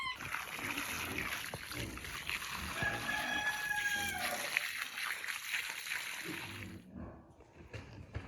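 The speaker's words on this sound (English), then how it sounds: "They are two of our original chickens that we've had for over 5 years now." Chickens on a homestead, with a rooster crowing over background clucking and general outdoor noise, fairly close and sustained before fading out near the end.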